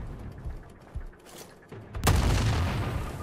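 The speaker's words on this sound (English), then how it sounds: "I saw something red that looked explosive. Why not shoot it?" Gunfire in the video game Sniper Ghost Warrior Contracts, a few muffled shots followed by a loud burst as a red explosive object blows up, its rumble sustained to the end.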